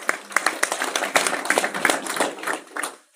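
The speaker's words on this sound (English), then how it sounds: "give them a round of applause" Audience applause at a live wealth-building event, a dense patter of hand claps filling the room for a few seconds at moderate loudness, with no talk over it.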